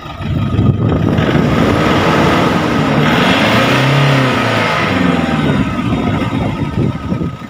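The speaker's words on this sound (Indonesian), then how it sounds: "Mesinnya cukup halus, masih terawat. Coba kasih tekan di mesin." A 2008 Toyota Fortuner's diesel engine, still original and well kept, is revved up and down close by, its pitch rising into a swell and falling back over a steady clattering idle.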